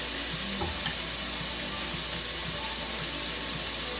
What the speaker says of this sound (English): as you mix it, the peanut butter will sort of dissolve right into the sauce